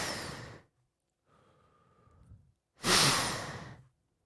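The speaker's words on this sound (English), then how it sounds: "That's me breathing out of both nostrils." Forceful exhalations through both nostrils close to a microphone, two bursts of breath with a quieter, nasal-toned exhale between them, no talking.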